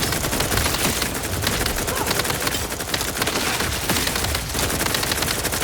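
Sustained automatic gunfire in The Outer Worlds 2, a dense, loud stream of rapid shots and bursts that continues without pause throughout.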